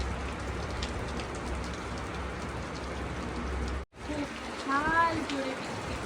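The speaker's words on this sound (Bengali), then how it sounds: "জোরে বৃষ্টি পড়ছে" Heavy rain pours steadily onto a rooftop, a dense unbroken hiss that cuts out for a split second near the middle before resuming, with a faint voice briefly under it.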